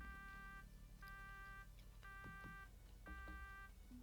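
An alarm in the Shadowrun video game for the Sega Genesis, repeating as steady electronic beeps in evenly spaced bursts over low background hum, moderately quiet.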